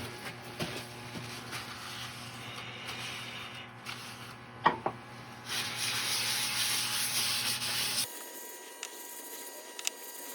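Yorkshire grit abrasive paste is rubbed over a segmented turned wood piece of ebony, oak and sapele, giving a steady soft friction hiss with brief knocks, ending in a quieter whir.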